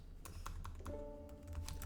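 Keys clatter on a computer keyboard, a handful of quick light taps close by and quiet, with a faint hum underneath.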